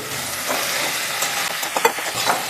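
Chicken pieces sizzle and fry in a pan of tomato masala while being stirred, a steady close crackle with scraping stir sounds and no talk.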